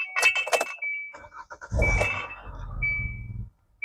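A Kia Soul's engine cranks and catches after a jingle of keys, then settles into a steady low idle for a couple of seconds before cutting off.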